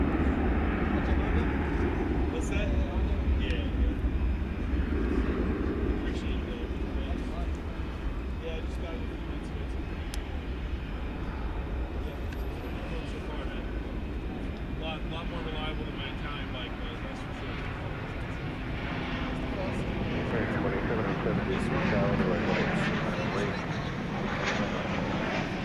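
Airplanes at DFW Airport at night produce a steady, distant jet roar that stays broad and constant, with a voice talking over it throughout.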